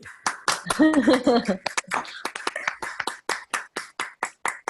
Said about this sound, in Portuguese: Vamos abrir todo mundo o som para dar uma salva de palmas para o Pedro e a gente encerra?